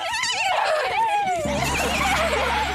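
A person voices an imitation of a horse's neigh for a real horse, a wavering, descending whinny-like cry that then trails into a low steady hum underneath.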